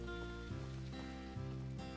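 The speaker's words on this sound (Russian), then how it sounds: "Ой, дождик пошел." Rain begins falling in a Russian village simulator video game, a steady soft patter spread over a continuous music-like background with faint tonal lines, no talking.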